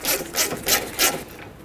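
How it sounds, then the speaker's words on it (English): A 14mm socket on a ratchet loosening a brake caliper slider bolt on a 2007-12 Dodge Caliber, four evenly spaced rasping ratchet strokes, close and fairly loud, with no talking. "For these, I'm going to use a 14mm socket. The first one I'm going to pretty much just loosen up"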